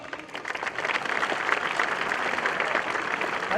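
Crowd at a summit inauguration ceremony applauds, a fairly dense, steady patter of many hands that swells slightly after the first half second and holds, with no talking over it.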